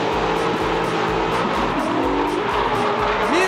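A race car at a semi-pro speed festival drives past at speed, loud and close, its engine revving high and shifting through repeated pulses, with a rising whine near the end.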